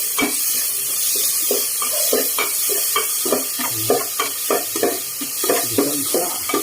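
Ginger added to a hot pan of onions for Ilocano-style beef papaitan, sizzling and frying steadily with repeated scrapes and stirring clatters of a utensil against the pan.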